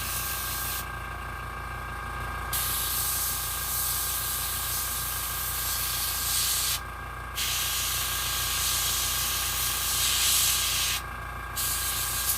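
An airbrush sprays paint onto a Jason mask, giving a steady, close hiss that runs without a break and is interrupted only by short changes in airflow. No one speaks.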